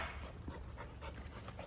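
A puppy named Flipper pants in quick, steady breaths while tugging at the edge of a toy, close and fairly quiet, with faint scuffling throughout and no talking.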